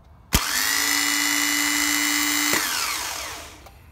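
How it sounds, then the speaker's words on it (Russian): A Toyota Camry starter gives one sharp click, then a steady electric whine holds for about two seconds before winding down, with no engine turning over or catching. "То есть вот этот вот втягивающий работает, все втягивает. Но мотор не заводит."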